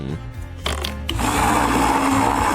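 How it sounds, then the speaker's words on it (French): A kitchen blender starts up with a brief stuttering whir, then settles into a loud, steady grinding roar as it blends colour-sorted Skittles candies, running alone with no voices. "je mets couleur par couleur dans le mixeur et je mélange le tout"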